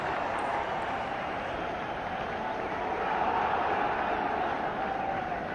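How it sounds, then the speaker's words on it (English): A large cricket stadium crowd at a Pakistan vs India match in Sharjah keeps up a steady, dense murmur that swells slightly midway, with no clear cheering bursts. "It's a huge crowd here."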